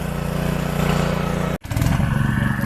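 A mini rotavator runs in a grassy field, its small engine droning loudly and steadily. It briefly cuts out near the middle, then chugs back with a rougher clattering throb.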